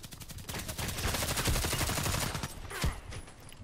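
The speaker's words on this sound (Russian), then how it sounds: "Мне нравится этот пулемет." A machine gun in the online shooter Contract Wars fires a long, rapid, continuous burst of loud shots on a small map, with a slightly stronger report near the end.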